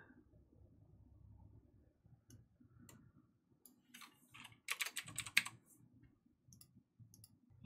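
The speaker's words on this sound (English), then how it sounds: "While I'm typing this" Typing on a computer keyboard, close and quiet, with bursts of rapid key clicks that build into a louder flurry around the middle, then slow to scattered taps.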